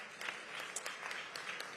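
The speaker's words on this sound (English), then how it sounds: "I want to give her executive team a big round of applause" Audience applause for a college executive team at a mayoral announcement, a soft, distant wash of clapping with scattered sharper claps, continuous throughout.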